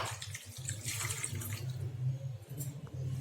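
Water pours steadily into a pan of spiced curd mixture while cooking curd fish, a continuous splashing rush with a low hum beneath, lasting the whole moment without pause.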